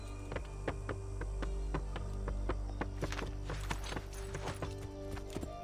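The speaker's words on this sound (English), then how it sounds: "You must mount the horse to continue." Horse hooves clip-clop steadily in the Assassin's Creed 3 video game, a regular walking beat of sharp knocks over a continuous music and ambient bed, growing busier toward the end.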